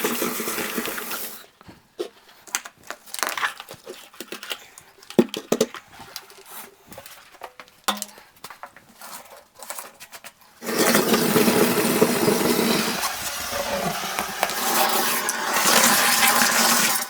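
Bucket vacuum sucking sand and water out of a hole during a radon mitigation install: first sporadic gurgles, clunks and slurps, then a sudden loud steady suction roar that runs to the end.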